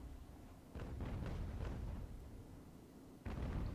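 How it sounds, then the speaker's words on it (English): Sailing-ship cannons fire in the naval battle game Ultimate Admiral: Age of Sail, heard as a dull, rumbling volley of booms, with a second burst near the end, over a steady low background roar. "Fire the Kanonen!"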